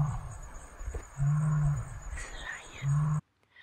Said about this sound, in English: listen to this, this is a lion